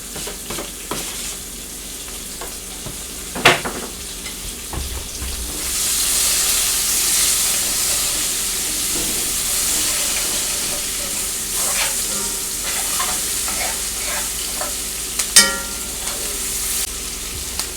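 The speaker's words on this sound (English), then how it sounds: "I'm going to add just a little bit more oil here. And I'm going to add my little chopped up onion." Chopped onion frying in oil in a pan for a steak and gravy dish: a loud, continuous sizzle that swells midway, broken by occasional scrapes and knocks of a stirring utensil.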